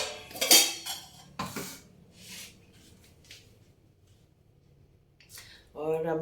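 A steel plate holding dal and rice clinks and scrapes a few times during eating by hand, with sharp bursts early and a final clatter, between stretches of quiet room tone.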